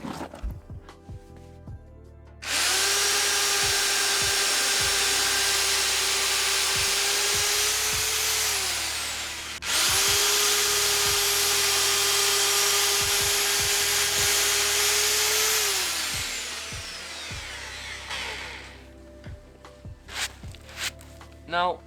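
A big power drill runs in two long sustained bursts of about seven seconds each, driving screws into wood for a DIY koi pond build, with a steady whine that rises and then winds down. Quieter knocks and handling noises come between the bursts.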